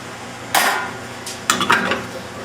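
Two close metallic clanks as a handle fitted with a cleaning basket and a teaspoon of cleaner is locked into a commercial espresso machine, with a brief rattle after the second.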